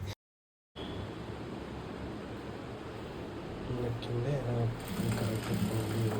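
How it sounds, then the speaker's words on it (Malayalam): A sewing machine stitching an Anarkali dress runs steadily and close after a brief dropout, a continuous whirring drone with a voice speaking faintly over it toward the end. "പിന്നെ അടുത്ത നൂലെടുത്ത് കെട്ടി പിന്നെ വീണ്ടും സ്റ്റിച്ചിങ്ങിലേക്ക് തുടങ്ങി."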